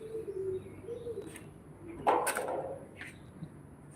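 A pigeon coos faintly indoors under a low background hum, with a few soft calls and one brief louder burst.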